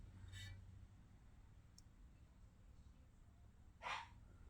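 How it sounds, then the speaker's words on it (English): A dog barks in the distance in a domestic setting, two short muffled bursts spaced a few seconds apart over a quiet background hum. "Oh my Lord, that dog."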